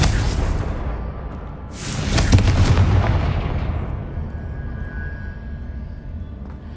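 A Confringo blasting spell from the video game Hogwarts Legacy bursts loudly with a deep booming explosion that rumbles and fades over several seconds, with no voices over it.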